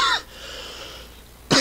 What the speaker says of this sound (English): a little cough here and there.